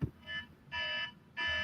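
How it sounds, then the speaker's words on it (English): An alarm buzzes in the background in steady repeated bursts, about three fairly faint electronic tones separated by short gaps. "buzzing, that alarm in the background there?"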